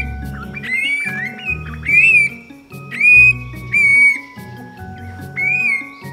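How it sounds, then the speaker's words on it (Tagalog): Songbird in a wildlife sanctuary in Puerto Princesa, Palawan, sings repeated clear whistled phrases with rising and falling notes, close and prominent, with some lower rustling and background sounds between calls. "Ang tunog na kanyang ginagawa ay isang bird song."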